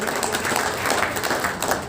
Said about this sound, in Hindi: मैं चाहूँगा कि आप अपने लिए एक बार जोरदार तालियां जो है हमारी NGO की हौसला अफजाई करें।